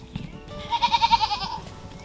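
A tiny young goat kid bleats once up close, a loud wavering cry with a rapid quavering pulse, over faint farmyard background noise.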